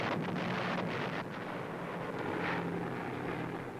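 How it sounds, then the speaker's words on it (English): American WWII bombers fly overhead over central Germany in 1945, a continuous, broad engine drone mixed with wind rush, steady and fairly loud, alone without talk. "Trailing vapor, American bombers come over Ludwigslust in central Germany."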